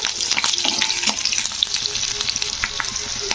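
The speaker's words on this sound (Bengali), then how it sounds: "সবার শেষে যেটা ভাজছি তো সেটা হলো উচ্ছে" Bitter gourd frying in hot oil for shukto gives off a loud, steady, dense sizzle with occasional stirring clinks, close up and with no voices.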